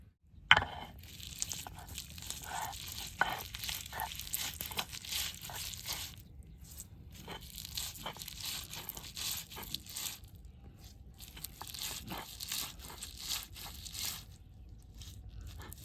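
Fresh prawns for village-style shrimp fritters being cut on a boti blade, giving close, repeated crunchy snips and crinkly tearing with brief pauses between strokes.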